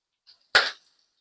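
Oil pops sharply in a hot pan while onion is sautéed for a vegetable stir-fry, one loud close crack preceded by a faint tick, with silence around it.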